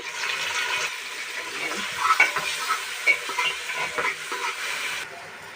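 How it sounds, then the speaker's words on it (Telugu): Browned vegetables are stirred with ginger-garlic paste and onion paste in a hot pan for biryani, producing wet scraping and churning strokes over a hissing sizzle, close and fairly loud, with no speech. "నేను దీంట్లో అల్లం వెల్లుల్లి పేస్ట్ అండ్ ఆనియన్ పేస్ట్ అనేది మిక్స్ చేసుకుంటాను"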